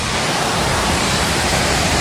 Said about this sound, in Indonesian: Bagaimana Curug Omas ini bisa menerjunkan air?